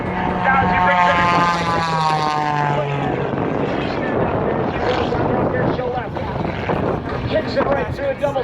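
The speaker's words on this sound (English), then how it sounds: "Look at that airplane, absolutely incredible." A propeller aerobatic plane performs at an air show in Gaylord, Michigan, its engine droning loud and close with a falling pitch as it passes, while an announcer talks over it.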